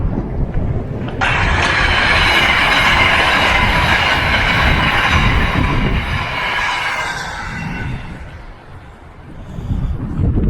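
A train on the Southport–Liverpool line in England rumbles past close by, a loud steady roar with rattling wheels that swells, holds, then fades as it moves away.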